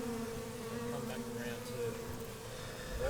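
A dense, steady buzz of many bees hums continuously and close by, with faint murmuring voices underneath.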